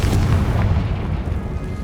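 Confringo fire spell detonating in Hogwarts Legacy, a loud deep booming blast with a rumbling low-end tail that fills the whole moment, no voices.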